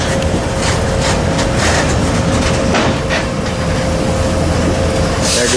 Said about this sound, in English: There goes that 70 Mac, Joe Kemp.